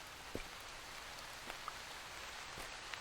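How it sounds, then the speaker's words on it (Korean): Steady, faint rain hisses in the horror video game The Gassal, with a few soft droplet ticks scattered over the constant wash. "비가 주룩주룩 내리고 있습니다"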